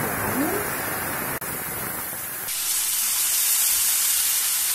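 Chopped onion dropped into hot oil tempered with coriander and cumin seeds, making a loud, close sizzle and hiss that swells after a brief pause and stays steady to the end.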